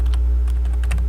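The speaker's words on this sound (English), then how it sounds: "Excuse me, I'm typing here." A burst of quick computer keyboard typing, close and loud, several clustered keystrokes over a constant low hum from a gaming setup.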